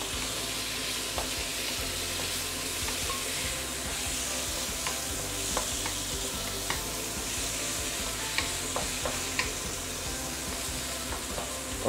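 Prawns for sambal petai sizzle and fry steadily in a hot pan, a continuous close crackle with occasional sharp pops and stirring clicks throughout, no talking.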